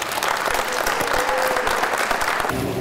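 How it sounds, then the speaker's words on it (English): Audience applause for a guest speaker, a former Virginia Tech football player, at a youth event, a steady dense wash of clapping held at full level for the whole stretch. "Clap it up for Mr. Michael Vick."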